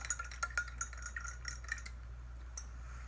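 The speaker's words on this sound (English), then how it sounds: "put some sugar in and actually give it a good stir" A spoon clinks and scrapes against a glass while stirring sugar into water, a quick run of bright taps and rattles that fades to quiet, with one last clink near the end.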